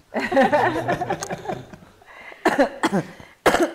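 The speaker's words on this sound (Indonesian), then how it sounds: "Langsung batuk Ibu." A fit of harsh coughs comes in bursts, a long run first, then two more separate coughs after a short pause.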